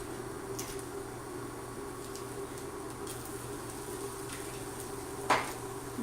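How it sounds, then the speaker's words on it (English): Garlic sizzles in a pan on an induction cooktop with a faint, steady crackle, broken by a few small clinks from the pan. "All right, so I'm gonna put in some garlic."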